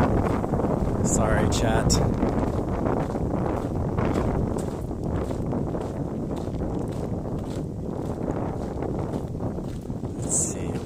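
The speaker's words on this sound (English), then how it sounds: "Whoa, the wind." Steady wind rumbles and buffets the microphone in a park in Japan, a constant loud roar throughout, while a person talks over it.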